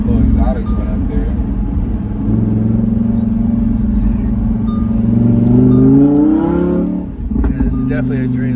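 A Lamborghini Huracan Evo fitted with a VF Engineering supercharger kit drones loudly and steadily from close by, its revs climbing toward the end, with people talking over the engine.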